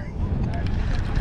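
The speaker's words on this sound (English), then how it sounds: "Wow, the wind just really picked up now." Strong wind gusts across Castaic Lake from a fishing boat, a loud, steady rumbling buffet on the microphone with a hint of water, lasting about a second.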